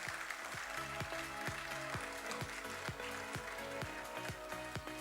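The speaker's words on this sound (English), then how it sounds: "can we please have a huge round of applause for this as well?" Audience applause at an annual convention award ceremony, steady clapping beneath a loud, evenly pulsing beat of music, with no talk.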